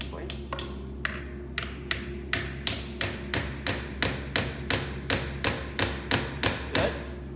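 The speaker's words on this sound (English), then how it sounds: "Let's get that nail started there" Steel hammer driving a nail into a wooden shelf bracket, about fifteen even, sharp close taps in a steady rhythm over a low constant hum, with a voice speaking quietly underneath.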